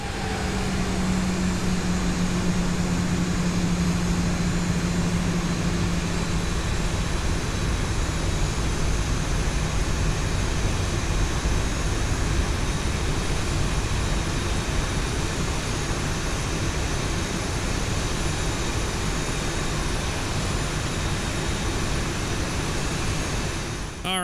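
A Boeing 737 taxiing to the gate in the X-Plane 11 flight simulator, its jet engines giving a steady, loud whine and rumble that runs unbroken throughout, with no voices.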